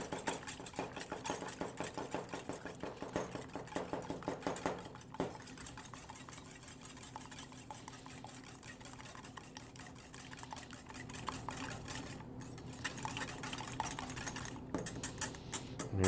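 Lightly beaten eggs whisked in a bowl with a utensil, rapid rhythmic clinking and tapping against the sides, close and quiet, going on steadily without talk.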